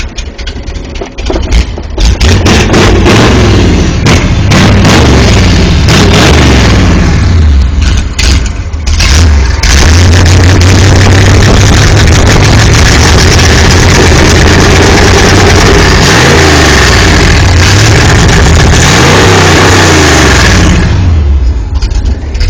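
A loud 1970 Chevy pickup truck engine runs steadily for the whole stretch, rumbling low and revving up and down with a rough, throaty roar close by.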